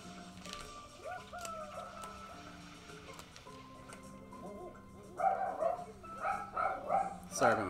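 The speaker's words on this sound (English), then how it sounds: "Sorry about my dog barking." A dog barking in a room several times toward the end, sharp repeated barks rising over game music and sound effects playing in the background.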